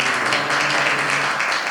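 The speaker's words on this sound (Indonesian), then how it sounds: "tepuk tangan untuk" Dense applause from a workshop audience at a cultural expression event, a steady wash of many hands clapping close and loud with no gaps, alone with no voices over it.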